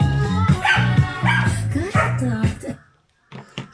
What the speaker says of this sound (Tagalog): Tingnan naman ang aso to.